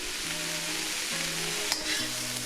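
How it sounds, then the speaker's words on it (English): Shrimp stir fry sizzles steadily in a hot pan, with a constant broadband hiss and occasional scraping as it is stirred, close and continuous without talk. "Gotta love a stir fry"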